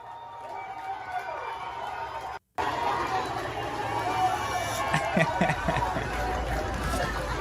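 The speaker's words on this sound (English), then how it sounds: "Listen to the cheering." Crowd at an outdoor Fourth of July rally at Mount Rushmore cheering and chattering in a steady roar, with a brief dropout early on and louder swells of voices toward the end.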